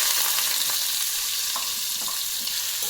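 Vegetables fry in a pan with five-spice seasoning, giving a steady loud sizzle and hiss throughout, with faint stirring clinks, no talk.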